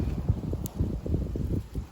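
Strong gusty wind buffeting a microphone outdoors, a steady low rumble with surges throughout, loud and close, with no clear speech.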